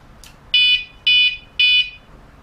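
A WSDCAM motorcycle alarm horn kit gives three loud, evenly spaced electronic beeps, close and sharp against a quiet background, with no talking.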